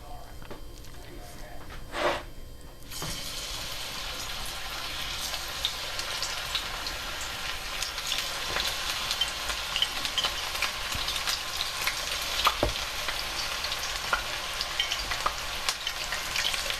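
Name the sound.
mushroom pieces frying in hot oil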